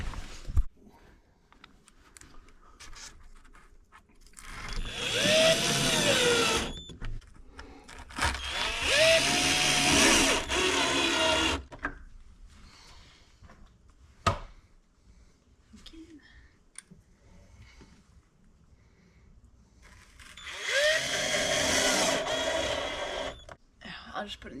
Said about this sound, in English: Okay, screws. I got a screw gun.